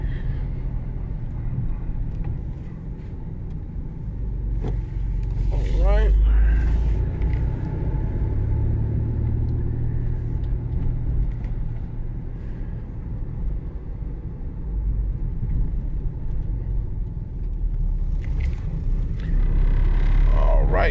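A 2000 Nissan Pathfinder engine drones low while cruising through town, a steady rumble with road and wind noise and a faint swell partway through.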